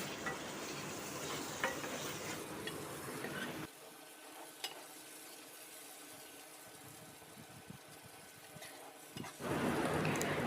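Spice paste of onion and masala cooking down in a pan, a steady hissing fry that drops away abruptly, then quiet clinks and faint bubbling before the sizzle returns loudly.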